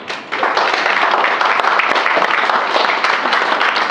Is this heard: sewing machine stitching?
no